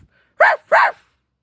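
Small puppy named Clifford giving two short, sharp barks close by, with silence around them.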